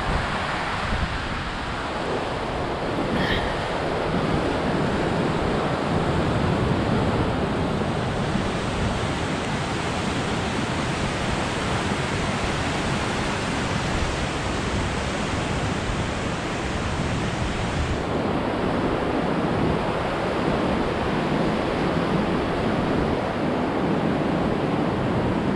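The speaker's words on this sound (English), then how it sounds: "Water is passing through by the canyon." River water rushing through a mountain canyon near Phu village on the Nar Phu trek in Nepal, a steady broadband roar that holds level throughout, with wind, and no voices.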